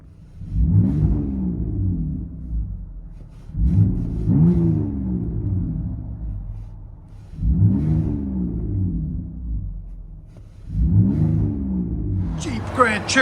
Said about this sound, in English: Jeep Grand Cherokee with big boys mids, rear delete, 5-inch big boys tips.